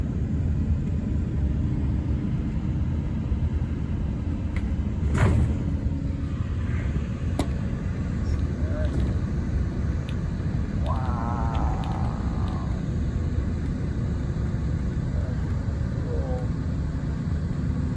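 A steady, close low rumble from a bus engine while riding from Yosemite Valley toward Weed, continuous throughout, with faint voices now and then.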